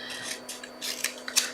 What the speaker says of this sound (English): I can do that with these scissors